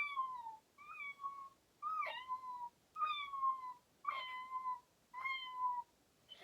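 A human voice imitates a cat, giving six separate meows in a steady rhythm, each one rising and then falling, close and fairly soft, with short silences in between.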